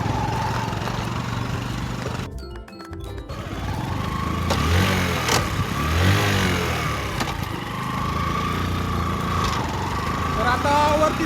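A motorbike carrying two riders climbs a cement road toward Dhodap fort in Dindori, its engine droning steadily and loudly the whole way, with one brief dip partway through and voices talking over it.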